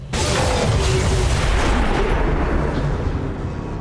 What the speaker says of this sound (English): it's going to trigger a second explosion.